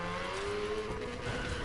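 A car drifts in Need for Speed Payback, its engine whining hard while the tires squeal under it. The sound is short and continuous, with no speech.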